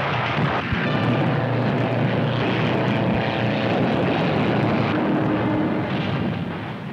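Propeller-driven WWII fighter planes roar down an improvised metal runway on takeoff, a loud, continuous engine drone with rattling undertones filling the whole stretch and easing slightly at the end.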